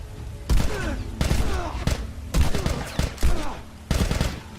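Gunfire in the video game The Last of Us: five loud, heavy shots in a steady rhythm, each with a punchy boom and a short rattling tail.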